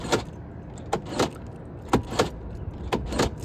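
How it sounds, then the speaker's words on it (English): Central locking on a BMW E30 works repeatedly, giving several sharp mechanical clunks from the door locks in pairs, close by inside the car, against a low rumbling background. "Starting out with the central locking."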